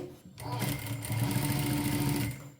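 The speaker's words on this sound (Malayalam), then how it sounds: "ഇനി നമുക്ക് ഇതിനെ ഇവിടെ നിന്ന് ഈ മുകളിലത്തെ പീസിൽ നിന്ന് ഒരു തയ്യൽ വെച്ച്" A sewing machine stitches a cut coat piece at close range, running in one steady, loud whirring burst of about two seconds after a brief start.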